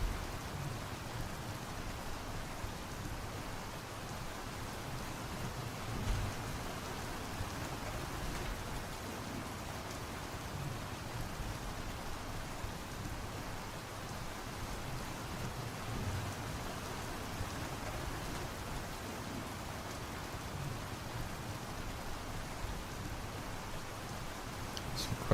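Steady rain falling in the GodSIM video game, an even, continuous hiss of moderate loudness that holds unbroken throughout, with no voices over it.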